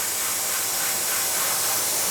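An airbrush sprays paint in a steady, close, loud hiss with no pauses, lasting about two seconds with no voices.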